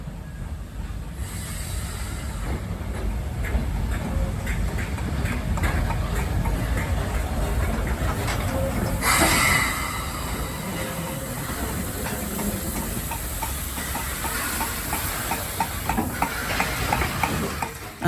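An S160 steam locomotive backs slowly and steadily into a platform at the Churnet Valley Railway nearby, rumbling with hissing steam and low mechanical clanking throughout.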